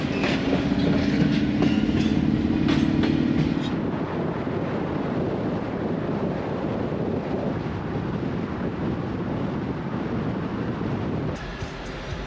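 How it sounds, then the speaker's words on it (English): An old locomotive pulling the wine train rolls past nearby with a steady loud rumble and clickety-clack of wagons, a horn-like tone in the opening seconds, and wind buffeting the microphone throughout. "There's the wine train if you want to do that."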